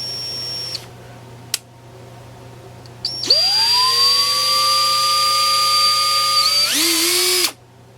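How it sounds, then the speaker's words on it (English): A small power drill with a little bit whirs briefly, then spins up and runs in a steady, loud high whine while boring a hole, the pitch dipping under load before it stops abruptly. "We'll take our little drill bit, put it approximately on center,"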